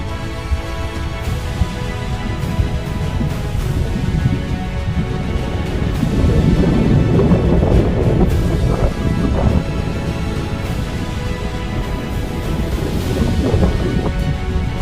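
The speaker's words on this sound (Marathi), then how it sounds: "मला असं वाटतं की वाऱ्याचा आवाज खूप आहे इथे" Strong wind roars across the hilltop ruins of Rajgad Fort in Maharashtra, a continuous heavy buffeting rumble over the microphone throughout, loud and close, with no talk.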